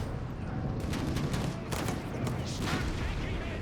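Gunfire and tank shots in the World War II strategy game Company of Heroes 3, with a StuG and a Greyhound armored car trading fire, a dense steady stream of shots and booms under a commentator's voice.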